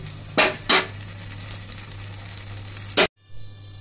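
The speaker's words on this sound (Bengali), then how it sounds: "বাটার দিয়ে এইভাবে ভেজে নেব।" Kulcha frying in butter in a pan gives a steady, soft sizzle with a few louder clatters near the start and end, then cuts to brief quiet.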